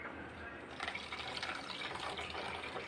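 Tamarind water is poured into a pan of sardine fish curry, a soft, steady liquid pour and splash heard at close range.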